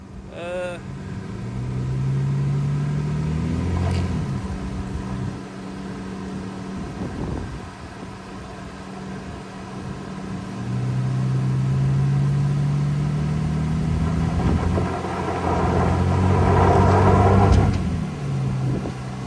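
A car engine revs and drops repeatedly while a front wheel spins against a brake line lock, the rising and falling engine note mixed with people talking nearby.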